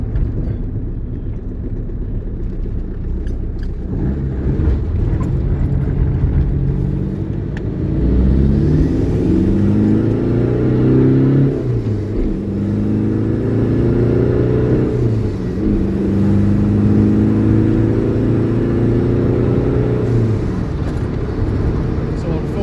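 A turbocharged car engine revs hard and repeatedly at high boost, with a loud, close rumble rising and falling in pitch through several pulls. Someone speaks over parts of it.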